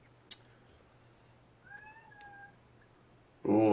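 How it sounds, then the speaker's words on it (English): A cat meows once in a short, clear rising-and-falling call, near and alone against a quiet room, followed by a sudden burst of louder noise at the end. "Ooh, I heard a meow."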